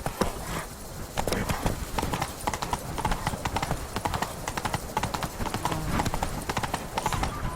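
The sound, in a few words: horse Roach galloping in video game The Witcher 3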